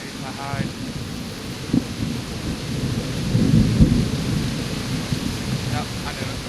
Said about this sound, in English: Trying to look for work out in the rain is pointless. A lot of rain.